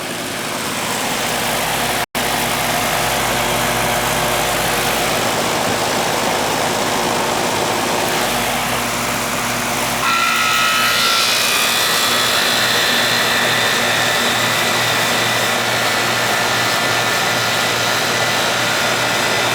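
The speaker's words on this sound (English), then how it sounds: "Compressor just kicked in." A Goodman air conditioner compressor, with a fault where it fails to start, runs as a loud, steady mechanical drone; partway through, the noise swells slightly and a faint whine rises as the compressor kicks in, with no talking.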